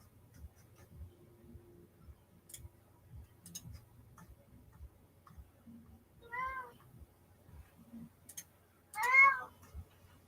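A cat meows twice, a short call then a louder, longer one near the end, over quiet background ticking and low rumble.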